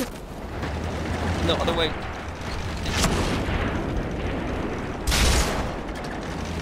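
Tank in the World of Tanks video game taking enemy fire, with repeated booming shell impacts and gunfire bursts, including a loud hit near the end, under a man's panicked speech.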